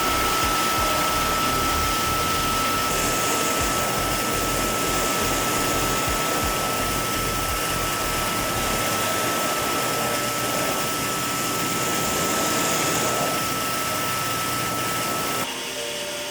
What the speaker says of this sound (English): Hardly using any pressure on this. Just letting the wheel do it.